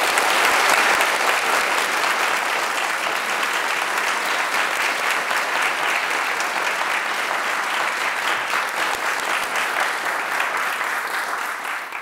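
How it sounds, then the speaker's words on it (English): An audience in Stockholm gives the 2024 Nobel laureates a big round of applause, dense sustained clapping from a large crowd that holds steady for about twelve seconds before tapering slightly. "let's just give them a really big round of applause"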